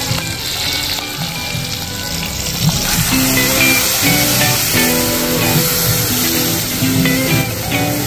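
Spice paste hits hot oil in a pan and sizzles loudly and steadily, a dense crackling hiss running for several seconds, mixed with stirring scrapes while cooking green hilsa fish.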